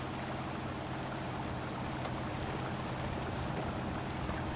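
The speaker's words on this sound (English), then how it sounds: "so we have water just rushing everywhere" Steady rushing water in the video game Spintires roars without pause, a broad, constant wash of sound with a low rumble underneath.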